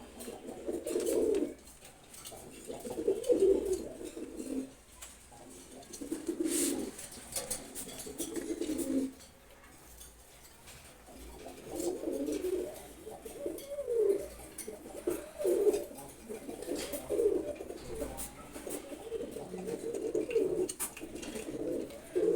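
A pair of silver Gorra pigeons coo close by in repeated low, throaty bursts with short pauses between them. No one speaks.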